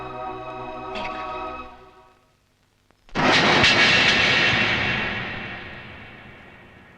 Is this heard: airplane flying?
yes